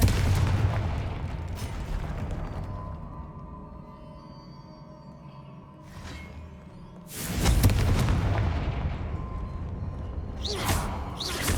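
The Confringo fire spell goes off in Hogwarts Legacy with heavy booming blasts and whooshing bursts, loud and near, cutting through a game soundscape that keeps running underneath, with two stronger detonations partway through.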